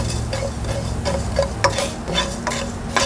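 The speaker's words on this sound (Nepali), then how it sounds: "यो मसला भुट्नको लागि चाहिँ मैले धनिया, जिरा, सौफ र मरिच राखेको छु" Whole spices, coriander seed, cumin, fennel and black peppercorns, dry roasting in a pan, giving soft rattling and scraping from repeated stirring strokes over a low steady hum, with no talking.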